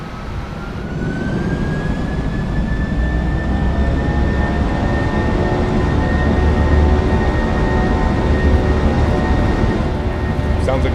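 Boeing 737-800 engines spooling up to takeoff thrust in Microsoft Flight Simulator 2024, a loud steady jet roar with a rising whine settling into a constant tone, continuous throughout.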